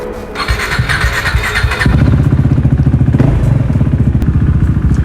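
A KTM 390 Duke single-cylinder motorcycle engine running with its exhaust removed, a loud, close, rapid raw pulsing that rises from idle into sustained revving with sharp mechanical clatter.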